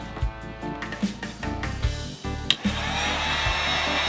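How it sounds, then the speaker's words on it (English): A heat gun runs steadily with a whirring hum while shrinking heat shrink tubing over car wiring for a Pioneer head unit install in a 2011 Scion xB. A few light clicks and handling knocks sound close by. "Just gotta grab the heat gun"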